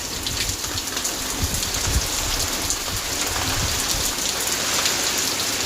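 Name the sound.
heavy rain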